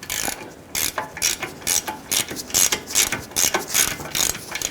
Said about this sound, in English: I'm going to use our socket and ratchet, and let's loosen those.